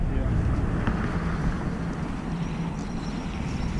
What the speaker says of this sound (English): I said it's just a tad bit windy